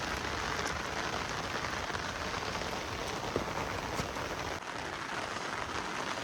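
Heavy monsoon rain pours steadily onto a village road beside a filled pond and drain. It makes a dense, continuous hiss with scattered drop impacts and no talking.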